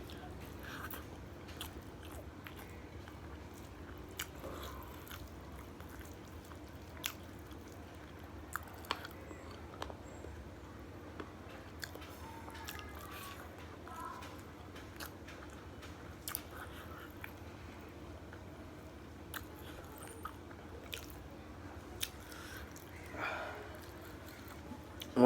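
Someone eating spicy food nearby, soft intermittent bites and crunchy chewing with wet squishes over a quiet room hum, with faint bits of speech.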